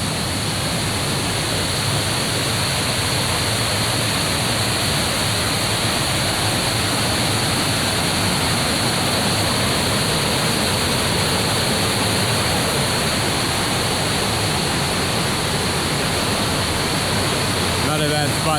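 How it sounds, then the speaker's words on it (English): Fast-moving stream water rushes near a cave and swimming holes in New Hampshire, a dense steady roar of flowing water that stays loud and unchanging throughout, close by and covering everything else. "Water's moving pretty good over there."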